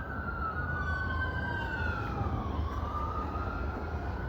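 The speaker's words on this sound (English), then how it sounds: "I'm hoping you can hear me with the sirens" Emergency vehicle siren wailing in a continuous rising and falling tone, fairly close and loud above steady traffic rumble outdoors.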